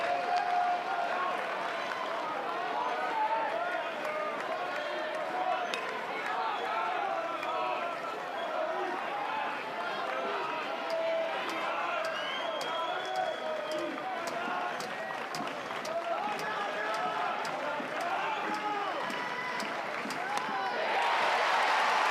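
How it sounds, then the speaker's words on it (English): A college baseball crowd cheers and applauds in a steady sustained roar of clapping and voices, swelling slightly louder at the end. "Crowd comes to life"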